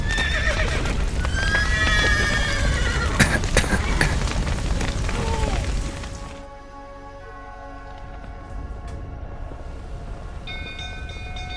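Horses in the video game The Witcher 3 whinny loudly several times over a rumbling, clattering background, then the noise drops away to a quieter hum with faint tones.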